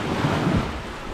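Ocean waves on a beach at Paradise Beach on Bantayan Island give a loud, continuous rushing wash, mixed with wind buffeting the microphone, with no voices.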